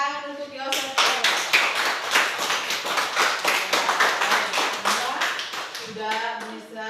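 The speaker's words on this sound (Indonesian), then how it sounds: "Tepuk tangan untuk Yosef Khairul." Children in an Indonesian primary school classroom clap together for a classmate, a dense burst of hand claps lasting several seconds, with speaking before and after it.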